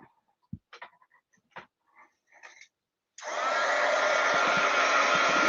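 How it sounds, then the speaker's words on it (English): A heat gun blows onto embossing powder to melt it, a loud steady whoosh of hot air that starts suddenly and runs unbroken after a few soft handling clicks and rustles. "I'm going to get my dun-dun-dun-dun heat gun, and we're going to just heat it"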